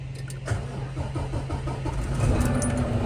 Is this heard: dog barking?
no